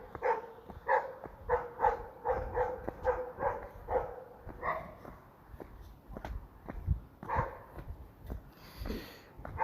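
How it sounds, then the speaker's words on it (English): Dogs barking in short, irregular bursts at moderate distance, the yips and woofs coming in quick clusters with brief pauses between them. "So here's like those dogs."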